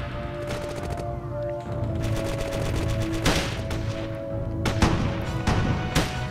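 Soldiers' small-arms and machine-gun fire crackles in a World War II combat game: repeated sharp bursts and single shots, some close and loud, others further off, overlapping in quick irregular volleys with no talking.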